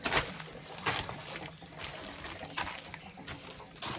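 Water drains from an opened valve in farmhouse plumbing during winterizing, a steady splashing flow with bursts of louder gushing, fairly quiet and heard up close, with no talk.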